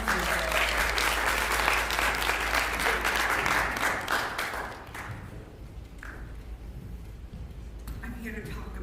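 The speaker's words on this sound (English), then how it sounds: "Let's give Judy a round of applause." Loud audience applause fills a live-streamed church-style gathering for about five seconds, then tapers into scattered claps and room murmur as the crowd settles.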